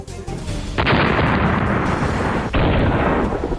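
Missile strikes and explosions in Israeli news footage: a sustained roar of blasts and rumbling fire, loud and dense, with a fresh surge partway through and no speech.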